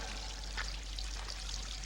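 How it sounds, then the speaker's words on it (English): Water pours steadily in an old, dusty place, making a continuous splashing hiss that stays even throughout. It is fairly quiet and carries a low rumble underneath, with no talking. "Water."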